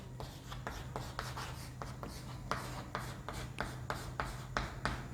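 Marker or chalk strokes on a board in a chemistry class, a series of short regular scratchy strokes over a low steady hum, fairly quiet and close.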